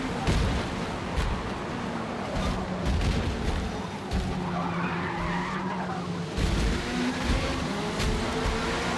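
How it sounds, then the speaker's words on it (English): Race car in Forza Motorsport, a Lamborghini LMDH, skidding and spinning out: loud continuous engine roar with screeching tire noise and sharp bursts, sustained throughout. "Spun out there."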